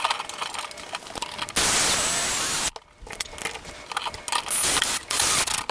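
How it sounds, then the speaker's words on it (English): A screw driven through the side of a wooden headboard to hold a light fixture, with ratcheting mechanical clicks and whirring bursts up close, broken by a brief quiet gap. "I will actually take a screw and screw it in through the side to actually hold that in place"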